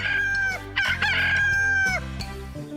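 A rooster in an animated show crows loudly over a steady musical backing, the call rising and stretching out across several seconds with no voices present.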